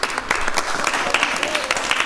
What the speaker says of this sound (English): So big claps for Vallabh.